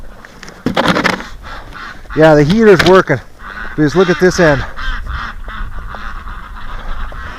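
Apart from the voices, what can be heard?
domestic ducks and geese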